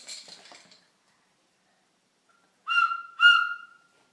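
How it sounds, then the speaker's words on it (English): Two short, bright whistle toots in quick succession after a brief moment of faint chatter, sounding like a small tin whistle being blown close by. "And look at your tin whistle."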